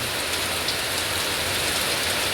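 Rain falls steadily on an outdoor market, a dense, even hiss of drops hitting surfaces throughout, close and fairly loud with no voices.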